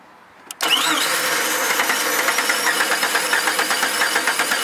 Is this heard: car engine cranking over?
yes